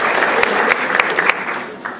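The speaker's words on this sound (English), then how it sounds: "I think they deserve a big round of applause too" Applause for a children's choir at a memorial gathering, many hands clapping in a dense burst with a few sharper claps standing out, fairly loud and close, with some voices mixed in.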